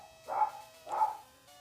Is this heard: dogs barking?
yes